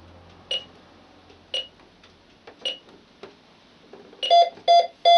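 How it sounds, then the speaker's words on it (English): An Optima Plus burglar alarm control panel beeps while setting: several sparse single beeps, then a faster run of sharp, close electronic tones near the end. "So that's the sound of the alarm setting, telling you to leave."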